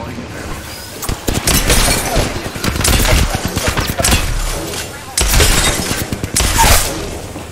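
Gunfire in an Apex Legends ranked match with Caustic, loud rapid automatic bursts and scattered single shots crackling close by, mixed with speech throughout.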